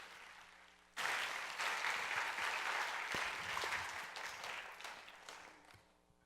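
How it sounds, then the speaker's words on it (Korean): An audience at a forum breaks into applause for three speakers, erupting suddenly after a second of quiet and then tapering gradually as the clapping thins out toward the end. "자, 일단은 우리 발표해 주신 연사 세 분 박수로 다시 한번 모셔보겠습니다."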